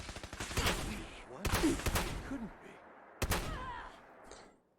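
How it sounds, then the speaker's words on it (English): Children of Atom enemies fire at the player in Fallout 4, with a few sharp, separate gunshots and short bursts, close and loud, spaced by brief quieter gaps. "the children of Adam have started shooting at you now"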